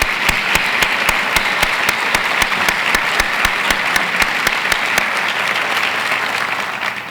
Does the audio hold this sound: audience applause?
yes